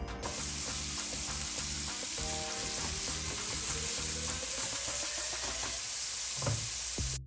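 Bacon and sausages fry in a pan over medium heat, a steady close sizzle with occasional scrapes and knocks as the meat is moved about, and background music underneath.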